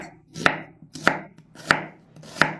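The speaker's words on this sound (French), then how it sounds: "Je vais le hacher en petits morceaux pour l'utiliser dans la recette" Knife chopping an onion into small pieces on a cutting board: four firm, evenly spaced chops, close and clear, with no talk.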